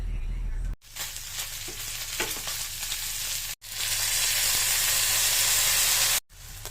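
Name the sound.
sautéing food in a pan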